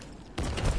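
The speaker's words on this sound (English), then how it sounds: "These fireworks are pissing me off." Fireworks bursting in a PS4 video game, a sudden loud dense crackle that cuts in after a quieter moment and continues for about half a second.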